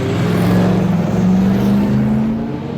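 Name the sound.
race cars at Spa-Francorchamps, Ginetta G57 and CN prototype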